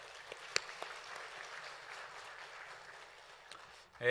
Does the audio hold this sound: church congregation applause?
yes